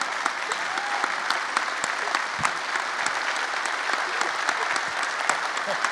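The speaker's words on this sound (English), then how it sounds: "How about one more round of applause for Sabrina Lee and a beautiful film." Sustained, dense audience applause at a film festival Q&A, a full room clapping steadily and close, with a few individual claps standing out.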